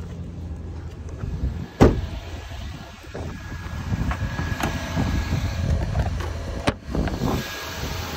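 A 2009 Range Rover Sport with a 4.4-litre Jaguar V8 idles in a steady low rumble throughout, with a couple of brief sharp knocks and some wind noise over the top.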